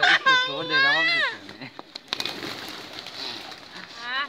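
Low, rolling pigeon coos mixed with nearby voices and background chatter, fairly close and moderately loud.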